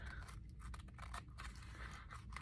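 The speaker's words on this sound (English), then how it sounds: "I'm going to go ahead and cut this end off" Scissors snip through the end of a ribbon during a heart-themed art craft, giving a few quiet cuts and scrapes over a faint, steady background hiss.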